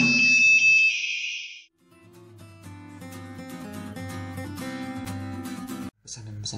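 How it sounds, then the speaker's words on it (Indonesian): A high Arduino buzzer beeps steadily for about a second, triggered on a capacitive touch piano, then gives way to tonal music with a short gap before a brief beep returns. "maka akan terjadi bunyi pada buzzer"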